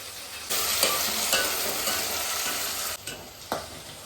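Cauliflower and beans sizzle in a pan while being cooked for a mixed vegetable biryani, giving a steady frying hiss broken by a few scraping stirs, close and moderately loud, with no voices.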